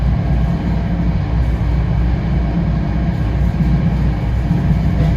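A passenger train runs steadily with a continuous deep rumble and rolling rail noise, loud and unbroken, with no voices.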